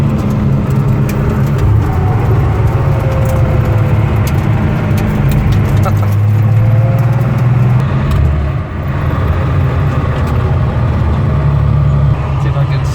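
A car engine hums steadily from inside the vehicle, a constant low drone as it drives with failed brakes, with people talking over it.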